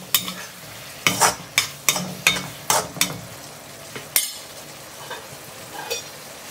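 Tamarind water poured into a hot, sizzling pan of frying onion curry, with a series of sharp bursts of sizzle and stirring clatter, close by and fairly loud.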